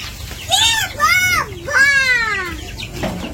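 Several chickens on a poultry farm cluck and squawk in quick, overlapping calls, fairly close, with a faint murmur of background noise.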